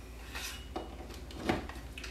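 Dried, bone-dry pieces of sourdough starter are dumped into a blender's chopping attachment, producing a few faint, brittle rattling clatters against the container, quiet and brief.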